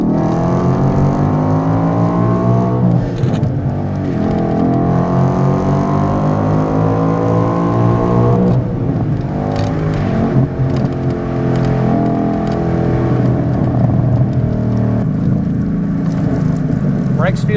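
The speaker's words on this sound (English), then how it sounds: "We'll downshift a second here and roll into the throttle some into this turn." A 2013 Ford Boss 302 with a six-speed manual, heard from inside during a test drive: the V8 engine revs and accelerates through a turn, its pitch rising steadily and dropping at shifts, loud and sustained, with a voice talking over it.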